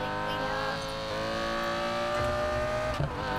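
A Lamborghini in the video game Need for Speed Payback holds a loud, steady engine whine. The pitch climbs slowly, then a short bump breaks it near the end.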